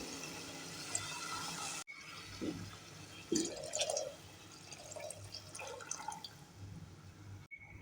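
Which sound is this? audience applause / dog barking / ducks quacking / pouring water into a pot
pouring water into a pot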